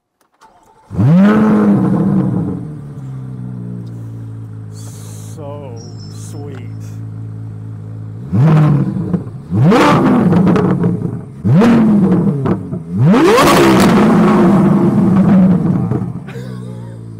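A Corvette Z06 fitted with an Eventuri intake and Paragon exhaust starts up loud and close, settles into a throaty idle, then rips through several sharp, sweeping revs in quick succession, with brief talk from people nearby.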